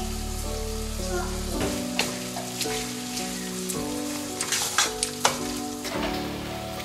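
Eru stew sizzles and bubbles in a pot, a steady frying hiss broken by stirring clatter, heard under background music.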